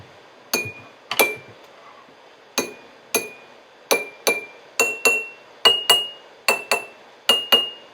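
A spoon strikes glass jars of water in a quick melodic run of clear, ringing clinks, some in close pairs, varying in pitch and played alone.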